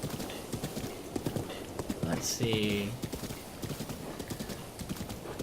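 Horse hooves clip-clop steadily in Zelda: Breath of the Wild while riding toward Hateno Village, a rhythmic, fairly close trot with a short whinny midway and a voice talking over it.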